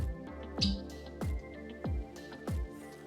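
Elijah Craig bourbon is poured into a glass for a Prohibition Old Fashioned, with four soft, regular glugs from the bottle over a faint steady background hum.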